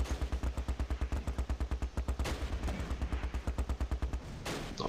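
Rapid, rhythmic bursts of machine-gun fire with heavier thuds from mortars in the Close Combat: Last Stand Arnhem war game, loud and sustained with no talk over them.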